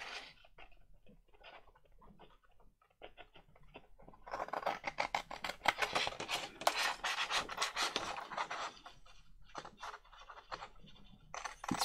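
Scissors snip and rasp through a sheet of paper from a 12x12 pad, quiet and close, with sparse cuts at first, then a denser run of crisp rustling strokes and a few scattered snips near the end.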